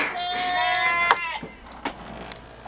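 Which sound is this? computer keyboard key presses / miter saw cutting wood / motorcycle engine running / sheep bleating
sheep bleating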